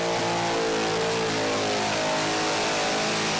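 Burnout car engine revving hard at Sydney Dragway during a Summernats Burnout Masters round, a loud, continuous, near roar held at steady high revs for the whole stretch with no talk over it.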